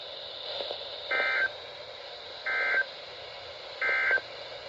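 NOAA weather radio emergency alert tones for a winter storm warning: three short, evenly spaced bursts of a two-pitch data tone over a steady radio hiss, with no voice.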